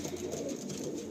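A tournament-quality pigeon from a pair in a loft gives a brief, soft, low coo, close by, with no talking over it.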